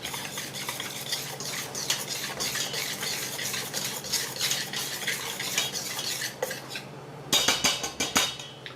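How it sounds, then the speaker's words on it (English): Pizza dough ingredients being mixed with flour in a bowl: steady scraping and stirring strokes with utensil clinks, close and fairly quiet, growing choppier near the end. "so we'll mix it up with the flour"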